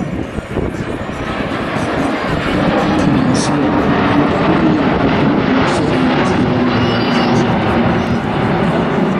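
An Airbus A350-1000 airliner flies past slowly at low speed with flaps slightly extended, a continuous, broad rumbling drone that stays loud throughout, with a voice talking over it.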